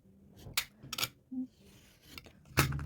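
An NV Refile trimming tool making a cut, giving several short sharp scraping snips spaced irregularly, close and clear against a quiet background.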